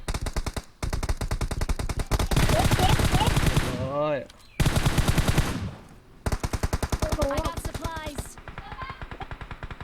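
Machine guns fire in the PUBG Mobile video game, with long, rapid, loud bursts and short pauses between them, while excited players talk over the shooting.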